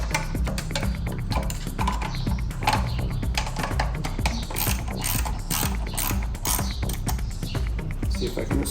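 Ratcheting wrench clicking steadily as the bolts on a license plate relocation bracket are loosened on a Jeep Wrangler JL, a dense, continuous run of close metallic clicks with no talking.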